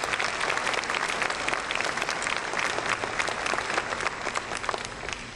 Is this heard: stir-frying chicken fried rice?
no